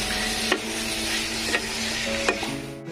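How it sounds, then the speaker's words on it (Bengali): Pre-fried mushrooms stir-fried in a pan for a winter mushroom and egg dish: a steady soft sizzle under a spatula's scraping, with three sharp knocks against the pan, over a faint sustained tone in the background. "মাশরুমগুলোকে এর মধ্যে দিয়ে দিলাম, দিয়ে এবার ভালো করে কষাবো"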